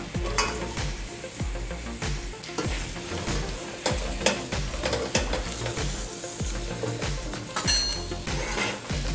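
Chayote and cauliflower sauté over high heat in melted fat, a steady loud sizzle broken by frequent scraping stirs and occasional clinks of a utensil against the pan, with no voices.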